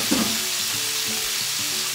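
Shrimp sizzle and crackle in a hot pan, a steady close frying hiss with a brief stir near the start.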